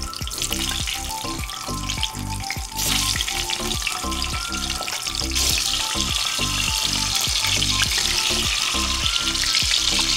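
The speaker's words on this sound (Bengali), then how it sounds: "এর মধ্যে আমি এই ডিমগুলো দিয়ে দিচ্ছি, একটু হালকা করে ভেজে নেবো ডিমগুলো।" Eggs fry in a wok with salt, sizzling loudly and steadily under a rhythmic pulsing hum, the crackle growing brighter partway through.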